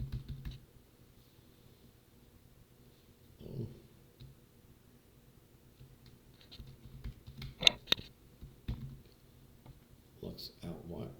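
Typing on a computer keyboard, with soft scattered clicks in short bursts under quiet talk and some louder taps near the end.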